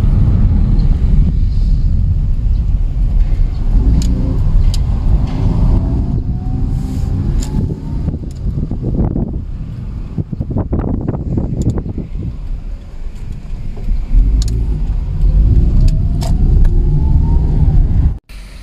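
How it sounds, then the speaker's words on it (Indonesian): A car driven on a test run after new brake pads and disc rotors were fitted, its engine and road rumble steady and loud throughout with wind buffeting the microphone, a few brief louder bursts midway, then cutting off at the end. "sekarang nih kita test drive"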